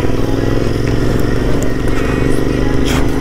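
A motorcycle engine hums steadily and loudly up close while riding hairpin hill roads, a continuous near drone with faint clatter and wind over it.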